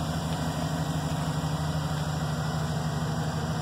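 The 5.3 V8 of a 2008 Chevy Silverado 4x4 short bed runs at a steady idle, a close, unbroken low rumble with a faint high whine, and no talk.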